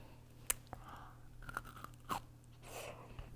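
Close, quiet crunching of a crispy brown butter chocolate cookie being bitten and chewed, with several distinct crisp bites and soft chewing in between and no talking.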